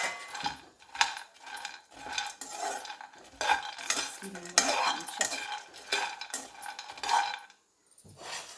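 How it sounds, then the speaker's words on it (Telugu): Cashews fry in a pan while being stirred, a series of scraping, clattering spoon strokes against the pan with a faint sizzle underneath, close and irregular before dropping off near the end. "ఇప్పుడు కొంచెం కాజు వేయించేద్దాం"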